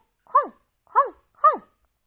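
A dog in The Sims 4 video game barks three times in an even rhythm, each bark short, close and loud, with silence between and no talk.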